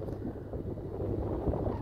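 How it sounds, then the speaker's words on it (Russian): Strong wind buffets the microphone on an empty hilltop, a steady low roar with gusty rumbles running unbroken for under two seconds. "жуткий ветер, хоть и этого не видно на кадре"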